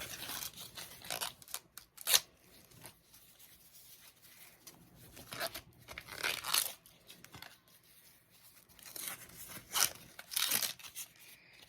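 Husk being peeled off an ear of corn, a series of close, quiet crisp tearing and crinkling rips in irregular bursts with soft rustling between.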